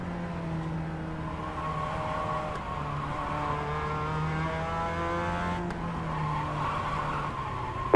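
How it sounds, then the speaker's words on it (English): A Mazda MX-5 race car skids and squeals off track in iRacing, tires sliding over a steady engine drone with shifting pitch, moderately loud and continuous. "The car in front has gone off."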